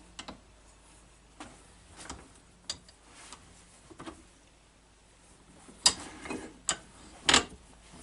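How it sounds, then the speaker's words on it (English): A part being tightened into a bench vise for cutting a gasket, heard as quiet ratcheting clicks and small metallic taps spread unevenly, growing a little louder and busier toward the end. "I'm going to carefully get this into the vise."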